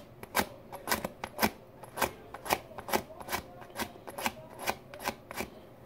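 Quick, rhythmic rasping strokes as a small Stormtrooper helmet mic tip is sanded, about a dozen short scratchy passes in steady succession, close and fairly quiet with no talking.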